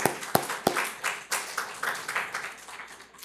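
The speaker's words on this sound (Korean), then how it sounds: "우리 박수로 환영합니다." A church congregation at a Sunday afternoon service applauds in welcome, with soft, fairly faint clapping that swells in uneven bursts and spreads across the room.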